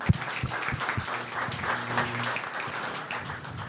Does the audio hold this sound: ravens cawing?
no